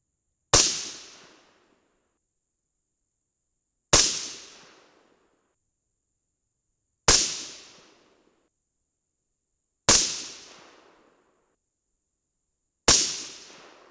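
Five sharp rifle shots from .223 rounds loaded with Federal AR match primers, fired at a range. Each loud crack rings out alone and decays quickly, with an even gap of about three seconds between shots.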